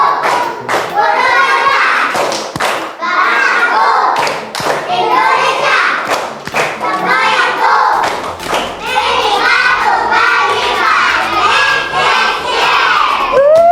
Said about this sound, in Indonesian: Tepuk tangan, keren sekali